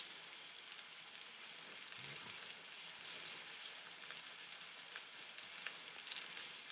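A pork roast browns in oil in a pan with a faint, steady sizzle and scattered soft crackles, heard close and alone.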